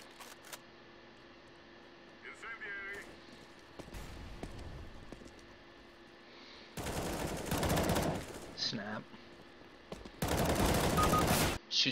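Gunfire in the CS:GO video game, two loud bursts of rapid shots in the second half after quieter clicks and game sounds, without any talking.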